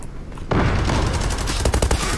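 Rapid bursts of gunfire from the Zula online shooter game, a dense barrage of overlapping shots after a brief quieter lead-in, loud and sustained throughout with no talking.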